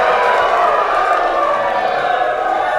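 Crowd at an event cheering and whooping together, a dense, loud wash of voices sustained throughout without a break.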